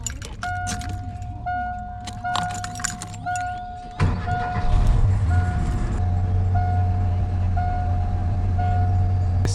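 A pickup truck under repair cranks and catches. Its engine settles into a steady idle that fills the rest of the clip, and a faint high whine may come from the power steering. Before the start, keys jangle close by with clicking and a chime.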